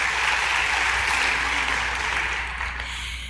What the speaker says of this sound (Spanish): un aplauso fuerte para todas y todos ustedes.